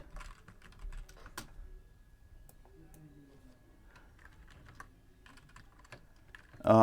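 A telnet command is typed on a computer keyboard in a quiet room, with light, irregular keystroke clicks spread across the span and a louder knock at the end.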